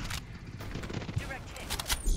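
Gunfire in the battle royale game Farlight 84, a few sharp rapid shots and bursts crackling close by amid game noise, with players talking excitedly over it.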